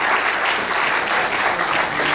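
An audience claps steadily through a university faculty lecture session, dense, loud applause from many hands with a slight rhythmic swell, without interruption.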